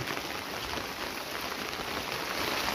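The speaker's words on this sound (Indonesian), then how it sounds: "kondisinya hujan lur selalu hujan" Rain falls steadily outside a house surrounded by crops and garden plants during the wet season, a soft, even hiss that holds constant throughout with no voices.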